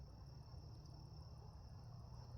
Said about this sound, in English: We just got the crickets tonight.